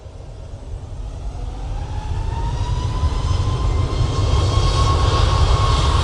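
A Swiss airliner in Star Alliance livery approaches to land, its engine roar building steadily from moderate to loud with a faint rising whine over broadband rumble, no voices.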